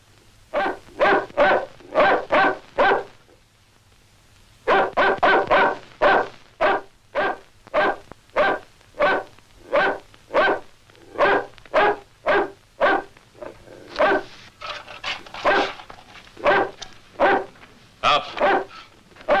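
A dog barks repeatedly in a 1958 British horror film, sharp evenly spaced barks in quick runs with a short pause after the first burst, loud and close over a low background hum.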